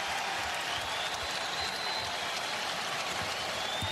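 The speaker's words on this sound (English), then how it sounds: "And listen to this St. John's crowd." A St. John's basketball home crowd at a March 2025 game against Marquette cheers and applauds loudly, a dense, continuous roar of clapping and shouting filling the arena.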